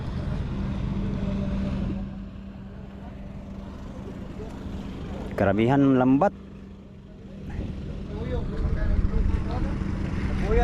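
A motorboat engine drones steadily nearby during a sea trial off Sorsogon, with wind and water noise around it, while people talk over the hum.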